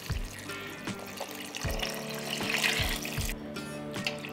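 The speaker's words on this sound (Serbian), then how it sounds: "I sada ću naliti sa vodom." Water splashes and gurgles as it is poured into a pot of beans with bacon, close and steady for a few seconds, broken by soft knocks against the pot.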